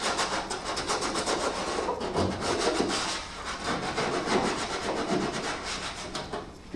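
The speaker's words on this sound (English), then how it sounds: "just run some 80 grit lightly over this" Body filler on a car panel sanded lightly by hand with 80 grit sandpaper, a continuous rhythmic scratching rasp of close back-and-forth strokes.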